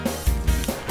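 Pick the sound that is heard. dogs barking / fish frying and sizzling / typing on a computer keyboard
dogs barking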